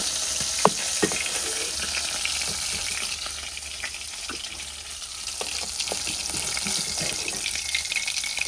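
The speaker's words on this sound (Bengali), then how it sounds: "সব মাছগুলো ভেজে নিলাম, বুঝছেন?" Fish frying in hot oil gives a continuous crackling sizzle, with scattered sharp pops and clicks throughout and no speech.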